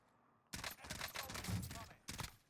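Rapid automatic gunfire from an M16 in the Warzone video game, loud bursts in a sustained volley followed by a second short burst after a brief pause.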